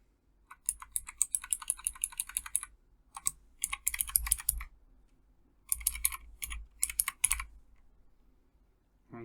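Someone types on a computer keyboard in quick bursts of clicking keystrokes, pausing between runs, close and fairly quiet with a low hum underneath and no speech.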